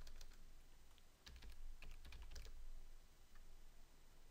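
Typing a web address on a computer keyboard, with a run of quiet, irregular key clicks that cluster into a brief busier burst partway through, heard alone without any talk.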